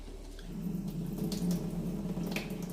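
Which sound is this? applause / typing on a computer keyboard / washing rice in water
washing rice in water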